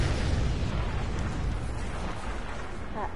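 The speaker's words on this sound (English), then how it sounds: "That explosion." An explosion in a Spider-Man video game: a loud, sustained rumbling blast with dense low-end roar that fills the whole moment and slowly tapers off.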